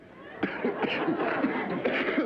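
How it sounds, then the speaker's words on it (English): A burst of coughing, several harsh rough coughs in quick succession mixed with breathy laughter, fairly close and loud. "I got to laughing so hard I got to coughing."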